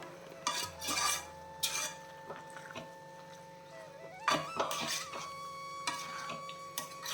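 A spoon stirs Kerala-style avial vegetables in a pan, giving intermittent scraping and clinking strokes in short bursts, close by over a low steady kitchen hum, with quiet gaps between strokes.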